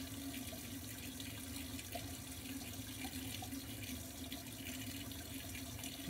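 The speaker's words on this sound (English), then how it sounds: "These have been washed, but I'm just gonna wash it again." Strawberries rinsed under a running kitchen tap, a steady close stream of water splashing into a sink with small irregular patters from the fruit, continuous and alone.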